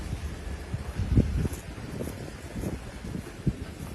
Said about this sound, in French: Ah, il y a du vent, c'est pour ça aussi.